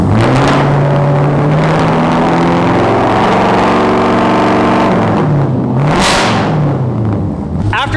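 A Whipple-supercharged Chevrolet Silverado race truck engine revs loud and close, rising and falling through sustained high-rpm pulls with a sharp burst of supercharger whine, while people talk over it.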